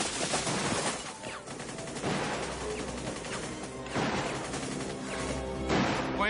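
Dense, sustained gunfire in an action film shootout, with rapid automatic bursts, sharp cracks and crashing impacts filling the whole stretch at loud, close range.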